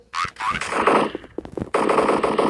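Rapid video game gunfire in loud close bursts, a rattling automatic volley broken by a short gap, with faint talk underneath.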